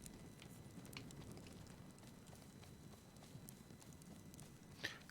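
Horse hooves clip-clop steadily in a video game, Windstorm: An Unexpected Arrival, a quiet rhythmic trot of soft repeated hoofbeats that continues throughout.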